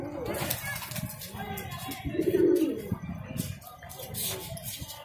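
A pigeon held while being tied into a snare on a pigeon-catching umbrella gives a soft throaty coo midway, close by, amid light handling noises and a voice talking nearby.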